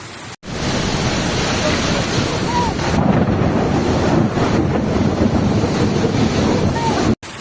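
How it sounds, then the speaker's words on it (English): Storm wind buffets the microphone in Paris during a severe storm depression, a loud, continuous roaring rush with brief dropouts at the start and end. "a storm depression hit Paris"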